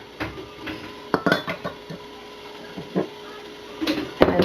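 Flour, salt and cream of tartar for play dough stirred in a bowl, with irregular light scraping and clinking of a utensil against the dish, close and fairly quiet, in bursts with short pauses.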